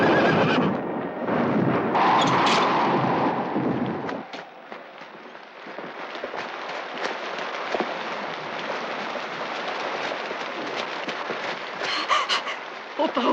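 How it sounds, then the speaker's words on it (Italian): Horses neigh loudly at close range, followed by scattered hoof clip-clops and rustling over a rainy background, with faint voices heard. "I cavalli? Sono qui vicino, andiamo a prenderli, venga."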